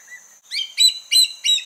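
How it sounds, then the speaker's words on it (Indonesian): A hawk gives a faint whistle, then four loud, shrill call notes in an even rhythm, close and clear against silence. "Hawk. Burung elang."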